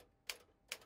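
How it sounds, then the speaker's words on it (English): Typewriter used as an orchestra-pit percussion effect, two sharp key strikes about half a second apart, close and dry, with nothing else sounding. "typewriter,"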